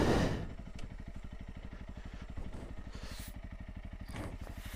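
A Honda CRF250L dual-sport motorcycle idles and chugs down a rut in a wet clay mud hill, its single-cylinder engine putting out a steady low thumping pulse, close and moderately loud.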